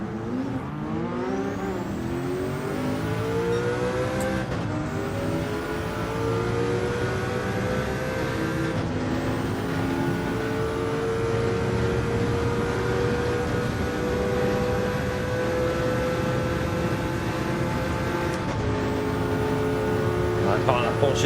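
Race car engines in Gran Turismo 7 at Le Mans, a loud sustained high-revving drone that climbs steadily through the gears with several sharp upshifts, while someone talks over it.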